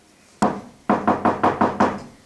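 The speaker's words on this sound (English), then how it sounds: "Arise, one knocks." Knocking on a wooden door: a single sharp rap followed by a quick series of five firm, evenly spaced knocks, close and loud with no voices.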